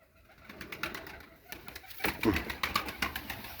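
A pigeon coos in soft, repeated throaty phrases close by, with faint rustling and a few louder bursts of cooing toward the end.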